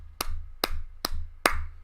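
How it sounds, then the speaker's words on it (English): Sharp hand claps sound during an award announcement for a GT racing season champion: four crisp, evenly spaced claps, close and fairly loud, with quiet between them. "round of applause for Spider Team 1"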